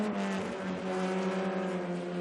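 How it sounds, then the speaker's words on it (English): Formula Vee race cars at the SCCA Runoffs run at full throttle in a close pack, a steady loud buzzing engine drone held continuously with no letup and no talk. "you can hear from the engine note, you're on the gas pretty hard here all the time"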